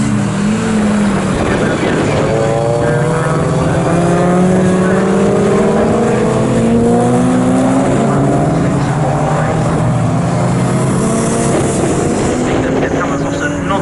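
Race cars in a 750 Motor Club enduro race at Snetterton roar past in a loud, continuous pack, engines revving with overlapping rising pitches as a commentator talks over them.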